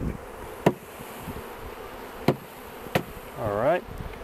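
Package honey bees give a soft, steady buzz while being shaken and tapped into a hive, with three sharp knocks on the box and a rising swell of buzzing near the end.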